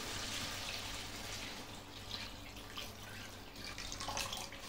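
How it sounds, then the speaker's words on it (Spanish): Water pouring from a tap into a cooking pot for a paprika-based home stew, a steady close splashing rush that goes on throughout with a faint low hum beneath it. "ahora le vamos a echar agua."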